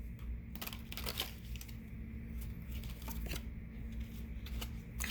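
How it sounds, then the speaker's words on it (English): Tarot cards are shuffled by hand in a quiet room, giving soft, close, repeated riffling and flicking bursts over a low steady hum. "I shuffled and I reached in the middle, and that came out."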